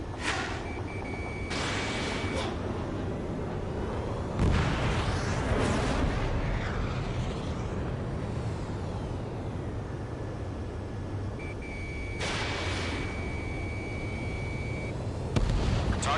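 Explosions of destroyed targets in the combat flight game Ace Combat 7 boom out in several loud bursts over a steady jet engine roar, with a brief tone sounding between blasts.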